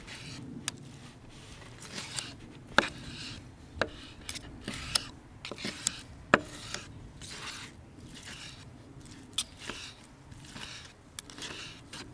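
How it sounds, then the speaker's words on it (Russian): Two knives used together slice vegetables for dolma on a board, producing faint, irregular tapping and scraping knocks spread unevenly over twelve seconds of quiet kitchen background. "берем два ножа и на расстоянии друг от друга, наверное, миллиметров 5-6, начинаем их вот так водить"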